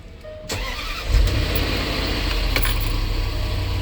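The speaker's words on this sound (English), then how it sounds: "I'm gonna start the vehicle." A supercharged V8 in a 2012 Range Rover cranks and fires after a brief quiet moment with a faint jingle, then settles into a steady, low idle close by.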